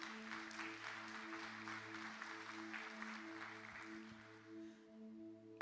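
A church congregation at an evangelical service claps in quiet, distant applause over sustained instrumental tones, with the clapping fading toward the end.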